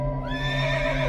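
A mare in a Hindi cartoon gives one close, loud whinny that rises and wavers for about a second over a steady tonal background, with no talking.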